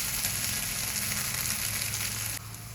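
Neer dosa, a thin rice-batter crepe, sizzles steadily on a hot pan for nearly three seconds, a constant close hiss that drops slightly softer near the end.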